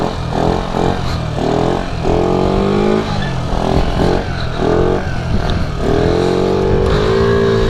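Stock 50cc scooter engine revving hard through a wheelie, its buzzing note rising and falling in repeated surges, loud and close, running a bit unevenly, with a voice talking over it.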